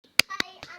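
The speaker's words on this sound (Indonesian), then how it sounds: "Tepuk tangan Islami." Children clapping hands in rhythm during an Islamic primary-school chant, three sharp distinct claps spaced evenly with a voice singing faintly between them.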